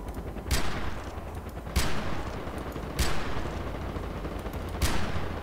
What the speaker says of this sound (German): Jetzt schießt er auf mich.